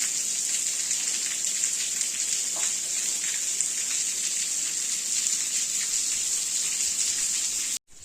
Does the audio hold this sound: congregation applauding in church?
no